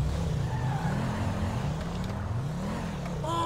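A car in the video game GTA 5, its engine humming steadily with the pitch rising and falling as the driver accelerates and eases off, close and continuous.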